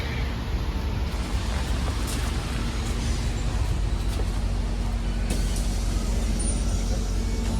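Kyiv city bus rumbles steadily from inside, with low engine drone and road noise throughout and brief air-brake hisses.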